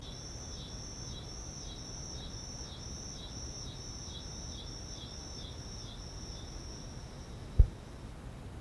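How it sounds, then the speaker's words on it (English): Crickets chirp loudly outdoors in a steady pulsing trill that runs almost the whole time over a low background hiss, with one sharp click near the end and no talk. "my apologies if you can hear the crickets because they're really fucking loud today"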